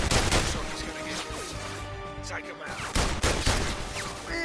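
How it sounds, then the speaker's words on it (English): Gunfire in the VR Worlds video game on PS4, with Russian enemies shooting: dense bursts of rapid shots and crashing impacts throughout, loud and close, layered with game effects. "you actually do feel like you're in the room with Russians shooting at you"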